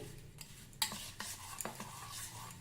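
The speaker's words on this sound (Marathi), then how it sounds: "या प्रकारे ढवळून हा गुळ पाण्यात विरघळवून घ्या" Jaggery being stirred into cool room-temperature water in a vessel to dissolve it, giving soft scraping stir strokes and a few light clinks of a spoon against the pot, close and fairly quiet with no talking.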